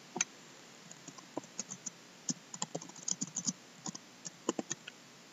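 Keys clack on a computer keyboard while text is typed and Enter is pressed in Visual Basic Studio, making a quiet, irregular run of close, crisp taps and clicks with short pauses between bursts.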